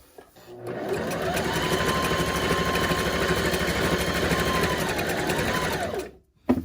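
A sewing machine stitches fabric for a reusable shopping tote, running as one steady, close motor whir for about six seconds before stopping abruptly.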